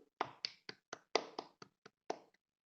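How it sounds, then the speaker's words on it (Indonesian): A classroom group gives a short round of applause for group 4, heard as about nine sparse, separate claps in an uneven rhythm with no voices. "beri tepuk tangan untuk kelompok 4 yang sudah menjelaskan hasil diskusinya"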